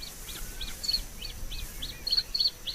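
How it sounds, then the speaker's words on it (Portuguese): A male bluethroat sings in spring reedbeds, a rapid series of repeated high chirping notes in close succession, fairly near and clear over quiet background. "O canto do macho estabelece o território do casal."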